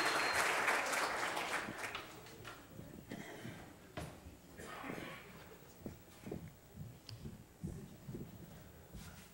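A church congregation applauds a young volunteer named Raina during a sermon, the clapping strongest at the start and quickly dying away into scattered thumps, footsteps and murmuring voices.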